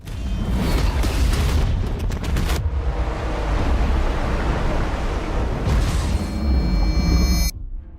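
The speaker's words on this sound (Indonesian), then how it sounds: "Untungnya, Kini masih berada di dalam air sehingga dia tidak terkena ledakan tersebut." Missile explosion in a film: a loud, sustained rumbling boom with roaring debris noise lasting several seconds, then cutting off, with no talk.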